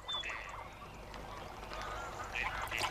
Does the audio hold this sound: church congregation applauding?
no